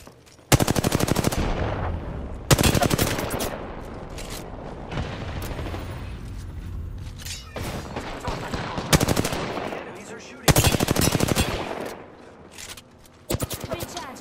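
Gunfire rings out in the video game Apex Legends, with loud, close bursts of rapid automatic fire repeating in spurts, separated by quieter stretches where a voice talks.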